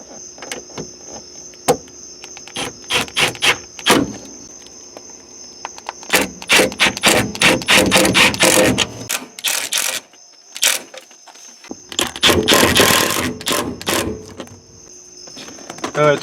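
Self-tapping screws are driven in after a bead of sealant is run around the part, in a few short whirring bursts with pauses between them, close and fairly loud, with some speech.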